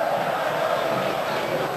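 Guarani fans fill a football stadium with a steady, loud crowd roar that swells briefly as they applaud, with no other distinct sounds rising above it.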